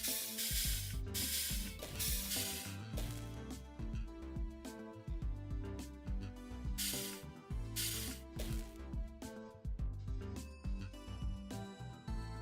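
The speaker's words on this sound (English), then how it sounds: "I need to weld them all together." Mechanical factory clatter from welding parts together in the Kaizen: A Factory Story game: rhythmic ratcheting clicks and repeated hissing sprays over a looping tonal backdrop, moderately loud with no talk.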